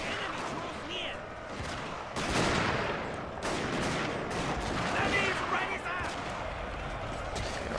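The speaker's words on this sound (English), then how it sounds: "they can just begin opening fire on whatever units are climbing over walls here" Infantry gunfire in the Shogun 2: Fall of the Samurai strategy game, with dense volleys of musket shots crackling and popping over continuous battle noise, some volleys louder and closer than others.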